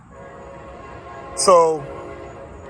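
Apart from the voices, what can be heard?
passing train with horn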